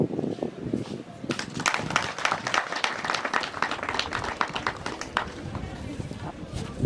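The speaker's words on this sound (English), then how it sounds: "It is therefore time to applaud him." An audience at a school building commissioning ceremony bursts into dense, sustained applause after a brief quieter moment. The clapping is crisp and continuous to the end, with voices murmuring underneath.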